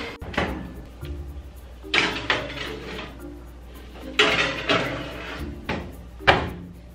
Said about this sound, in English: Lalagyan na natin siya sa oven.